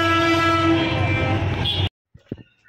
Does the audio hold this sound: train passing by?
yes